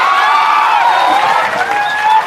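A crowd claps and cheers at a Bihar political rally in Bajpatti, Sitamarhi, forming a steady dense wash of applause with mixed voices throughout.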